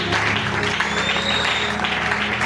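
A church congregation breaks into applause and acclamation after a long scripture reading, a continuous wash of clapping with cheering voices and a faint whistle, fairly loud and sustained throughout.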